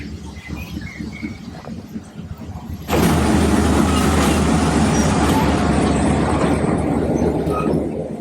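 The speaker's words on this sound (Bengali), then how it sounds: "ওই যে ট্রেনটা আসছে। এই যে দেখো ট্রেনটা কিন্তু বিশাল।" A large train rolls through Hanoi's narrow Train Street, its loud, steady rumble suddenly swelling and holding close by after a quieter stretch of crowd ambience.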